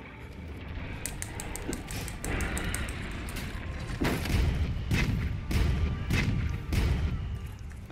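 Several heavy cannon booms and thuds from the video game Monster Hunter: World fire in irregular succession over a busy background, loud and fairly close.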